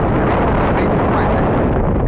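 Strong wind at the beach in São Miguel dos Milagres, Alagoas, buffeting the microphone with a loud, continuous roar that holds steady for the whole stretch.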